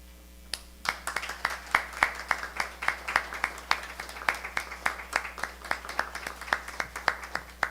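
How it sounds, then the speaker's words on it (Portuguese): City councillors in a municipal chamber session applaud while standing: a steady run of sharp, fairly sparse claps from a modest group, heard at moderate distance over a low constant hum, with no talking. "Gostaria de pedir aos vereadores que se coloquem de pé em uma salva de palmas"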